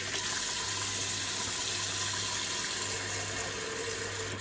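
Water runs steadily into a pot for boiling potatoes, making a continuous, close rushing splash with a low hum underneath and no talking.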